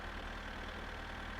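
A Mazda car idles in the video game My Winter Car, a steady low rumbling engine hum with no talk over it.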